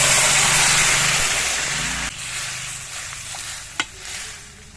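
Spice paste and chopped kohlrabi tipped into onion and garlic already fried red, a loud broadband sizzle that quiets abruptly as the ingredients land, followed by softer frying with a couple of brief clinks.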